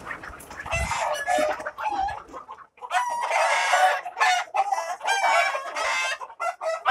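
Sonali breed chickens and roosters on a poultry farm cluck and squawk in repeated bursts, some crowing mixed in, close and lively with short pauses between flurries.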